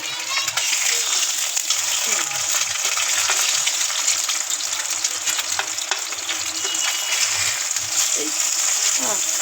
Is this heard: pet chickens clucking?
no